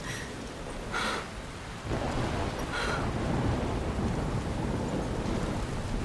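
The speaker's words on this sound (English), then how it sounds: "looks like we're waking up on the floor in the pouring rain" Pouring rain hisses steadily in the video game Life is Strange as two sharp, crackling thunderclaps ring out early on, followed by a dense, unbroken downpour, with no voices.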